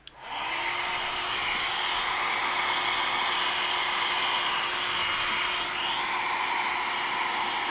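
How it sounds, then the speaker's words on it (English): A blow dryer switches on and roars steadily, close and loud, drying paint on a chalk-painted kitchen knife holder, running without a break. "let me hit that with the blow dryer just for good measure"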